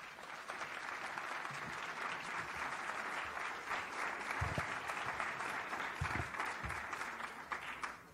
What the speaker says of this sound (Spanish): Reciba un cordial aplauso, doctora.